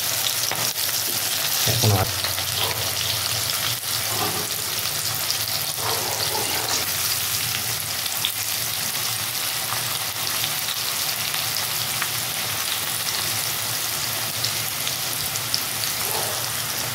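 Okra pieces fry in hot oil in a home kitchen pan, a dense, steady sizzle crackling continuously up close throughout, with a single brief word spoken once.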